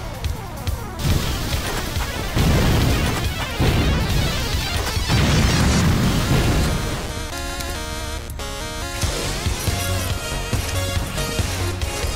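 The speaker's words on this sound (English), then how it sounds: "I'm whipping out the rocket launcher because there's another pack of spear legs coming up" Rocket launcher in the video game Mace Griffin: Bounty Hunter firing, followed by loud crashing explosions and blasts amid chaotic combat noise.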